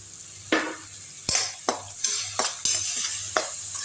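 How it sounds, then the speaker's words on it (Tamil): Tamarind water splashes and sizzles into a hot frying pan, with several sharp clattering hits of a spoon stirring against the metal, while making bitter gourd thokku. "இப்போ இதை வந்து இந்த புளி தண்ணியை எடுத்து ஊற்றிக்கலாம்"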